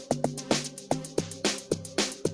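Amapiano log drum programmed in FL Studio Mobile, a repeating pattern of deep, woody pitched thumps layered with bright percussion hits in a steady groove.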